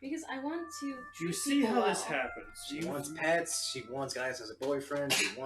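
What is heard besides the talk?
No distinct noise like a dog, phone or traffic.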